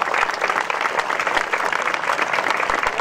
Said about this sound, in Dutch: Applaus voor het Oranje Comité.